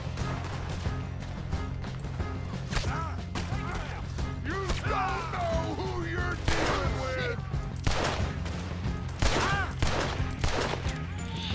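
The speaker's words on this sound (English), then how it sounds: "Just keep shooting till nothing moves." Rapid gunfire rattles through a Red Dead Redemption 2 shootout, dense bursts of shots and ricochets from several guns continuing nonstop, with shouted voices mixed in.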